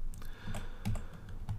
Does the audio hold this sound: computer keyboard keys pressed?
yes